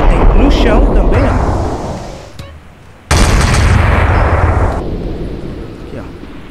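Loud, booming gunfire bursts from bullets striking the ground in GTA San Andreas with added new effects, a long roaring blast that fades, a brief gap, then another heavy blast decaying away.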